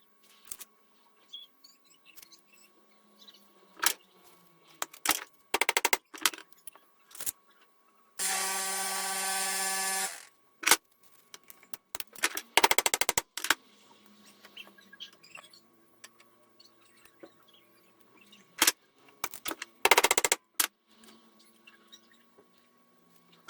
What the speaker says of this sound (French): On tape pas trop fort pour pas casser la platine.